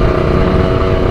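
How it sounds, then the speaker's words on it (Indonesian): A two-stroke motorcycle running on racing two-stroke oil drones loudly and steadily at close range, a brief constant engine buzz with no break. "vibrasi motor jadi lebih smooth ya, sedikit lebih smooth dibandingkan dengan oli samping biasa"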